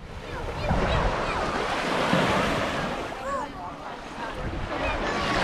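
Waves and surf wash steadily onto the shore at Caspersen Beach in Venice, Florida, a continuous roar with some wind buffeting the microphone and faint voices of people nearby.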